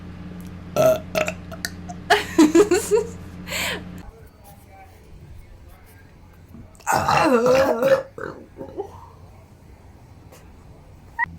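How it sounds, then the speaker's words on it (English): Loud, drawn-out burps, two long ones separated by a quiet gap, close to the microphone, with brief vocal sounds around them. "I have to burp."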